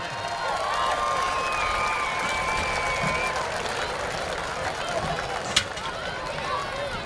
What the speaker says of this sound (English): How about another round of applause for the Norwalk Warrior Marching Band